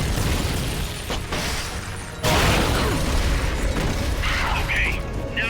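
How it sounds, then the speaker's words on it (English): A rocket launcher fires in Metal Gear Solid: Peace Walker, a sharp boom followed by a loud, sustained blast of noise amid constant game sound and mechanical clatter. "Firing rocket launcher."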